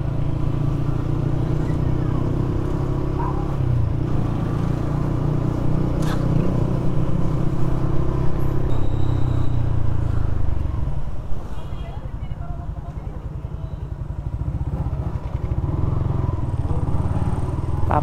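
Busy road traffic with motorcycles and cars passing close by, a steady broadband engine rumble lasting throughout with brief dips and swells, a voice talking faintly underneath.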